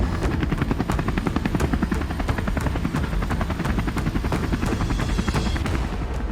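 Helicopter carrying the Argentine president lifts off, its rotor a steady loud chop of rapid even blade beats over a dense low engine roar, close and unbroken throughout, with no voices.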